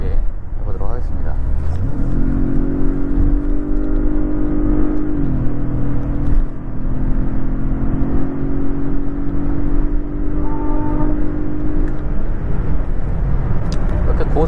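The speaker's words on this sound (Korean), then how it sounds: "사운드 제너레이터 기능을 한번 넣어보도록 하겠습니다" Genesis G80 2.5 turbo engine with its sound generator set to strong, a steady droning engine hum that rises in pitch around two seconds in and holds through the drive, with someone talking over it.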